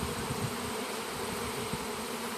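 A honey bee swarm gathering on a tree branch hums steadily outdoors, a continuous close buzz of many bees with no talking.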